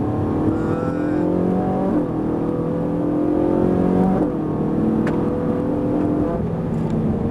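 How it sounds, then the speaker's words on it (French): A Ferrari 458 Italia on a circuit at Fay-de-Bretagne brakes and then re-accelerates, its engine note dropping before climbing again in a loud, steady whine heard close up from inside the car. "Et là on freine. Freine léger. Et on réaccélère."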